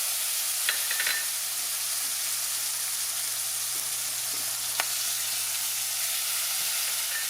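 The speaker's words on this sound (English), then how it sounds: "We're gonna add our sweet peppers." Sweet peppers hit a pan of browned meat for Salisbury steak, a steady soft sizzle and frying hiss with a few light stirring taps, heard alone at moderate level.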